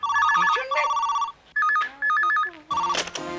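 A telephone rings in a home during a family sitcom scene, its warbling electronic double-tone bell repeating in several loud bursts with brief gaps, alone with no talk.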